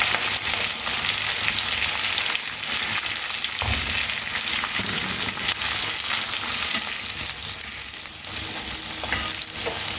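Capsicum fries in a pan for egg chilli, giving a loud, continuous sizzle with occasional stirring scrapes throughout, close up and without talk.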